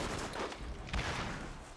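Gunfire from a weapon in the Borderlands video game, a short burst of shots with a sharp crack near the middle, fairly loud and busy with no talk over it.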